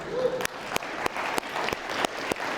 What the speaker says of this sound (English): So if you guys could give me a round of applause, that'd be great.